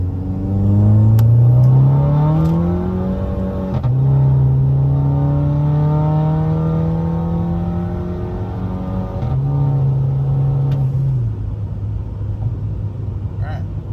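A VW Tiguan with a DQ250 DSG gearbox pulls hard in a second gear roll, engine note rising steadily and loudly, dropping briefly at shifts around four and eleven seconds before climbing again, with a voice speaking over it.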